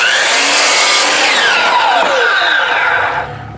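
A power saw cutting a 45-degree angle on a board for an easy garden bench, a loud, close, continuous whine with its pitch shifting as the blade bites, tapering off at the end.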